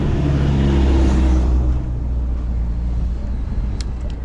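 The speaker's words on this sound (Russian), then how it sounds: "Маршрутка." A marshrutka minibus rumbles loudly close by and fades as it drives away along a road near Yalta in Crimea, leaving quieter traffic noise behind.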